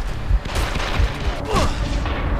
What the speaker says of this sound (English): I was far away from the bomb and the explosion still got me.